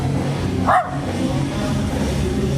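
A single short dog bark at a popup market in Khao Lak, Thailand, cutting through steady crowd and street noise, with murmured voices in the background.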